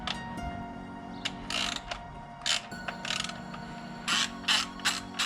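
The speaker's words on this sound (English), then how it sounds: "Next, I'm gonna take these 2 bolts off. I got an E10 for those." A hand ratchet with an E10 Torx socket removes two bolts from the engine bay of a BMW 335i with the N54 engine. Bursts of close, loud ratcheting clicks come in uneven runs over a steady background hum.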